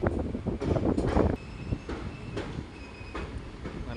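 A moving train near a film shooting location, its wheels and carriages rumbling loudly at first, then easing into a steadier, softer clatter with faint high squeals and wind rushing past.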